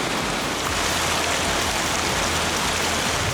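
Heavy rain pours down steadily on a street in Pondok Aren, South Tangerang, a dense unbroken hiss with no pauses and no voices.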